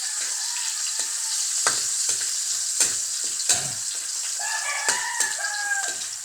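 Leftover rice stir-fried in a pan for garlic fried rice with egg sizzles steadily while a spatula scrapes and stirs in irregular strokes, with a rooster crowing in the background.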